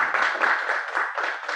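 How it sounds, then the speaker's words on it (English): Audience at a formal academic event honouring a computer science department head claps in a steady, dense burst of applause, fairly loud and continuous throughout. "Please, a round of applause for her."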